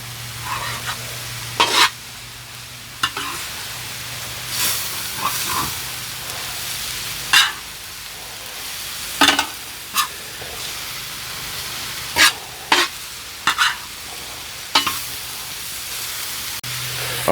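A Mediterranean stir fry with tomatoes sizzles on an outdoor Firedisc, a continuous close frying hiss broken by repeated sharp clacks of a utensil stirring and scraping the pan.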